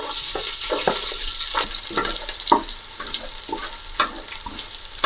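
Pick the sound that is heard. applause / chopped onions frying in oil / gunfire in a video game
chopped onions frying in oil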